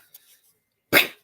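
A single loud, close dog bark, one short burst after near-silence with a faint earlier sound, the dog voicing to be let outside.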